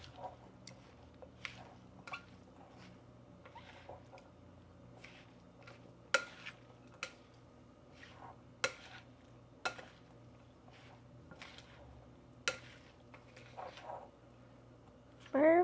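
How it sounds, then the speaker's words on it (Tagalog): Salad being tossed and stirred in a bowl, with soft intermittent clinks and taps of a utensil against the dish over a quiet background hum, fairly faint and irregular. "Haluin."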